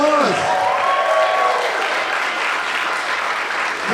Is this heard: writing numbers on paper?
no